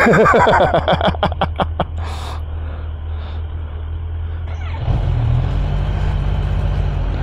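A Kawasaki H2 SX SE motorcycle engine idles steadily up close, with a few sharp throttle blips at the start and a deeper, louder idle toward the end.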